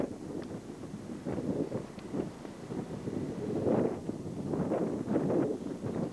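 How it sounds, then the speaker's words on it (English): Gusty wind buffets the microphone on a snowy mountain lookout in Killarney National Park, rising and falling in rough low rumbles that swell louder midway and toward the end. "A little windy up here, though."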